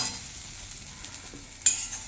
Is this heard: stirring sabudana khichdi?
yes